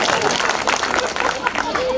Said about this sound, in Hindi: बजा लीजिए ताली दो चार